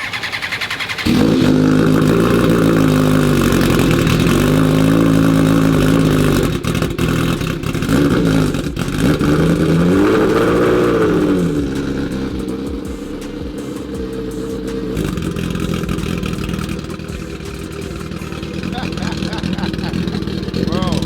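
A Brutale 1000RR motorcycle fitted with a full titanium Arrow exhaust starts up close by and roars, with loud revving swells and rumbling idle between blips, dominating the whole stretch without talk.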